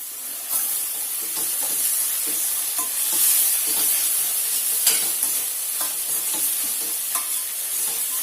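A cauliflower and pea curry is stirred in a pot over a loud, steady sizzle and hiss of frying. Soft scrapes of the spoon recur through the sizzle, and no voices are heard.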